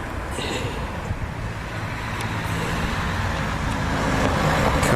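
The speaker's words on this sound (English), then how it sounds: "Car just went past." A car passes by on a road beside a golf course, a steady broadband traffic rush that swells slightly toward the end, with no talking over it.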